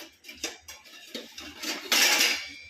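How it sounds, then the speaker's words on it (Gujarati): Light metallic clinks and knocks of pots and pans being handled, ending in a louder clatter as a metal pot is set down on top. "આ તપેલી જ મૂકી દઈએ"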